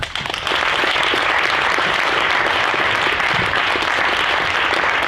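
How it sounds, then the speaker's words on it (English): A crowd applauds new members at a National Honor Society induction ceremony, with dense, sustained clapping that starts after a brief ragged onset and stays loud and even throughout. "Please join me once again in applauding all of our new members."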